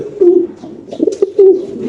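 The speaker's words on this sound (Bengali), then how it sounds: "নরের ডাকটা একটু আমরা দেখাই দিই আপনাদের" A male Polish Lynx pigeon coos close and loud in a few throaty, rolling phrases over two seconds, with no talking.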